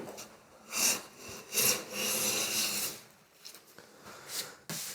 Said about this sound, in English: I'm just going to skew the blade a little and start taking some nice wider shavings